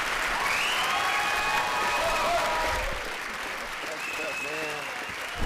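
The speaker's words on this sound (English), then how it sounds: "Don't stop clapping." A conference audience claps steadily and loudly throughout, a dense wash of applause with some vocal tones and a voice rising over it before the clapping eases slightly near the end.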